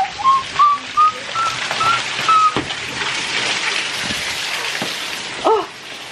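Steady rain falls outdoors, a soft, even patter heard throughout, while a short run of whistled notes rises over it near the start and a few louder drops or knocks break in.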